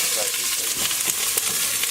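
Vegetables frying in bacon grease in a hot pan: a dense, continuous crackling sizzle close by, with a few sharper pops and stirring sounds mixed in.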